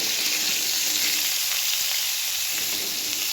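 Eggplant and other vegetables fry lightly in oil for shukto, a Bengali mixed-vegetable dish, giving a steady, close, even sizzle that holds unbroken for the whole stretch with no voices.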